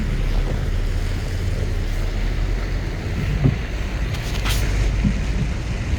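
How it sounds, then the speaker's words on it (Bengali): A boat rides artificial river-like waves at a park in Saudi Arabia, with steady churning water and wind rumble throughout, a few brief splashes and knocks rising above the wash near the middle. "সুন্দর নৌকা ঘুরে গেল অটোমেটিকলি, নদীর মতো এই ঢেউ"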